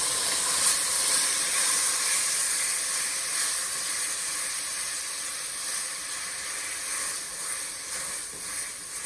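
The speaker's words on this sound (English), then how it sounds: "you can hear the sizzle gets a little bit quieter because of the juices" Tomatoes added to a hot pan for white bean chicken chili give a steady, close sizzle and hiss that holds fairly even throughout, easing slightly toward the end as the juices release.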